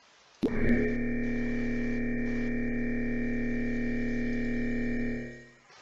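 A single electronic tower-defense game sound for a tower being built or upgraded: a sharp attack followed by a long sustained synthetic drone that holds steady for several seconds, then fades out.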